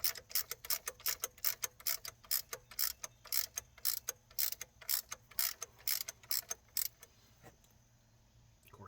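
A hand ratchet running a bolt down during an alternator replacement on a 2004 Dodge Ram 1500, a rapid, regular series of sharp clicking strokes close up that stops abruptly near the end, leaving quiet background.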